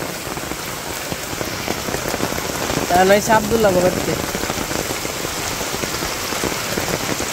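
Heavy rain pours down on a Bangladeshi village in a dense, steady hiss that stays loud and unbroken from start to finish, while someone speaks briefly in the middle.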